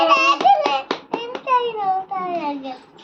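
A short burst of hand claps for a small child, several quick claps near the start, mixed with a child's high, sing-song voice that carries on through the rest.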